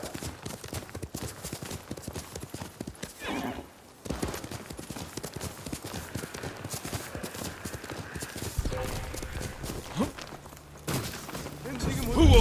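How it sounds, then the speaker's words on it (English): Horse hooves clip-clop steadily under a swelling game soundtrack in Ghost of Tsushima, with a brief whinny, clashes and a voice speaking over the galloping. "You're a good horse, Kage."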